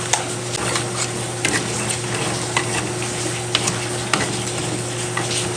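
A pot of crab and vegetable stew at a rolling boil gives a steady, close bubbling hiss with faint scattered pops and ticks throughout.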